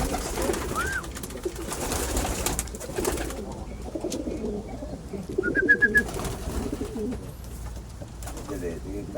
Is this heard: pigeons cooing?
yes